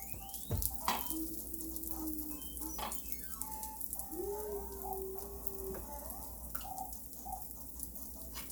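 French toast sizzles steadily on a griddle, a soft continuous fry with faint crackles and occasional clinks of utensils, no voices over it.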